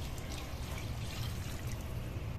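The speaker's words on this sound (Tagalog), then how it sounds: "Lagyan natin ng tubig." Water is poured from a container into a cooking pot for soup, a steady, continuous splashing trickle at close range, no talking over it.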